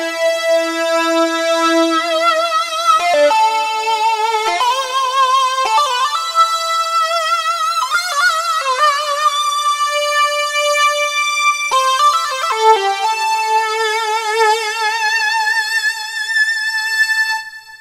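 A Korg Wavestation synthesizer playing its Mini Lead patch gives a bright, sustained lead line with shifting, gliding notes, steady and loud, alone with no talking.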